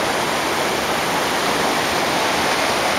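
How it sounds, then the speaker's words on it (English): Steady, loud rushing of rain-swollen water flowing over a dam on Village Creek in Arlington, a continuous broadband roar heard up close with no voices. "There's water in Village Creek again."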